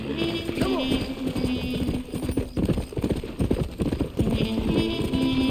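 Horse hooves clip-clop at a gallop in Red Dead Redemption, a steady rhythmic thudding with a brief whinny, played loud and close under game music.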